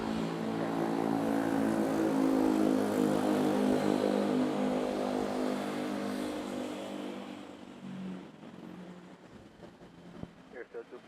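An airliner at Manila's NAIA airport, with a loud sustained engine roar and rising tonal whine that holds for several seconds, then fades, leaving quieter background noise with a few small knocks.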